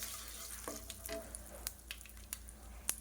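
Asafoetida dropped into hot oil gives a soft, steady sizzle with a few faint crackles and light clicks, close and quiet, with no voices.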